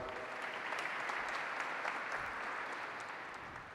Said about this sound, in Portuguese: uma salva de palmas ao senhor Fábio